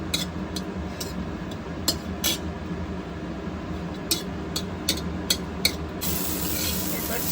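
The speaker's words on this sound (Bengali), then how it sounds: "কিশমিশটা একটু নাড়াচাড়া করে নেওয়া হচ্ছে।" Raisins are stirred in a hot pan for chira pulao: a continuous soft sizzle broken by short scraping clicks of the utensil at irregular intervals, fairly close.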